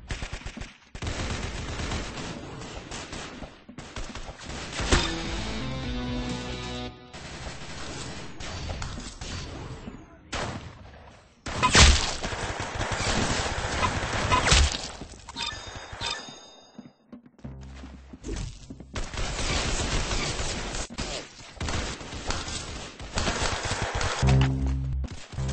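Dense gunfire in the Roblox shooter Arsenal: rapid shots, bursts and impacts pile up almost continuously, loud and close, with brief gaps between volleys.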